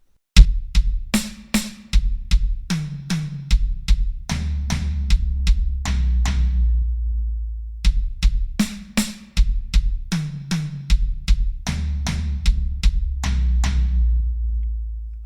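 Linear drum fill travelling from snare across high, mid and floor tom, played slowly twice with a brief gap between, dry close strokes descending in pitch and ending on a longer ringing low tom.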